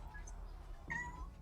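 A single short cat meow sounds near the end of a quiet stretch, faint and close, over low background hum.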